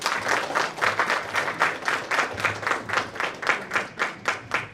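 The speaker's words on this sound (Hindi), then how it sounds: "मुझे लगता है तालियां कम है।" A crowd at a national conference for the visually impaired claps in a strong, rhythmic unison beat, loud and regular, after an inaugural speech.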